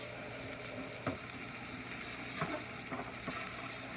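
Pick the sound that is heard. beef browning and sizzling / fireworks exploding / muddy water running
beef browning and sizzling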